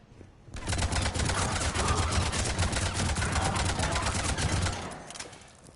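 A firefight in Mass Effect 3 brings a long, loud burst of rapid automatic gunfire. It lasts about four seconds, then cuts off and fades.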